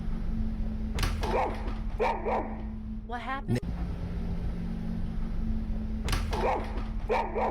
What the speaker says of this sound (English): dog starts to growl toward the kitchen for no reason